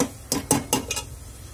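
Dry mutton masala being stirred in a cooking pot: four quick, close clinks and scrapes of a utensil against the metal pot in an uneven rhythm, with no talking.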